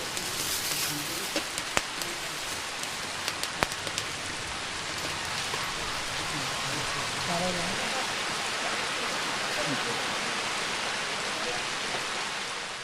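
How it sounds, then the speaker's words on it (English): Steady rain falling on surfaces at a Hindu mela, a dense continuous hiss of drops with a few sharper taps early on, close by and fairly even throughout, with faint voices beneath. "This is the first rain we've had in 3 weeks."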